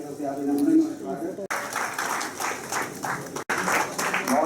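Audience applause at a grand Ujjwal Bharat Ujjwal Bhavishya function held at the DC in Ramban: a steady wash of clapping that runs for several seconds, with two brief breaks, under a speaking voice.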